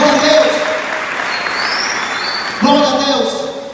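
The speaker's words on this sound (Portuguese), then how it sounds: "Dê uma salva de palmas ao Senhor." Steady clapping from a crowd fills the room at a worship service, loud and continuous, while a singing or speaking voice carries over it with harmonic tones.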